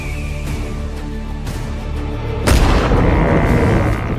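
Gunshots boom out in the open: a few dull, spaced reports, then a much louder blast that leaves a long, rumbling echo trailing off.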